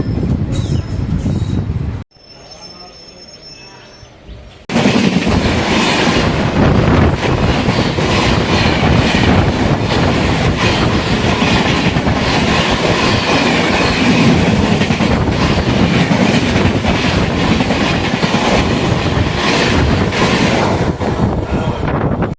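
The Alappuzha–Dhanbad express overtakes at Ingur railway station. After a brief quieter stretch, a loud, close roar of rushing carriages and clattering wheels breaks in and runs on steadily, with a faint squeal.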